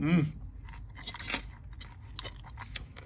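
Close, crisp crunching and chewing of stiff Garbage Pail Kids wax-pack bubble gum, with a loud bite at the start followed by repeated softer crackling chews.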